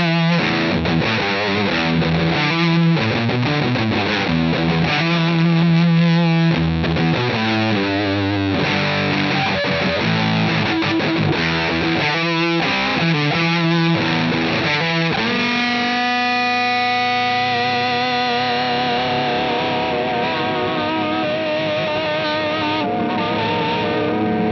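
Electric guitar through a fuzz pedal plays distorted single-note lines, quick picked phrases first, then longer sustained, wavering notes ringing out alone and up close.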